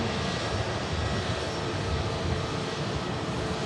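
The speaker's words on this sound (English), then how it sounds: "Virgin Atlantic flight 109 to Atlanta now lined up with the VistaJet just in front." A Virgin Atlantic airliner bound for Atlanta holds on the runway behind a VistaJet, its jet engines producing a loud, steady, broadband roar that fills the whole stretch without a break.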